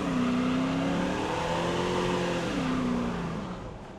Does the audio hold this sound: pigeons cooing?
no